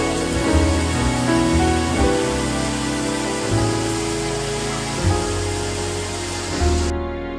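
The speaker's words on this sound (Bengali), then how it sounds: "বাইরে বৃষ্টি পড়ছে" Rain falls outside as a dense, steady hiss, with low rumbling thuds recurring every second or so, cutting off abruptly at the end.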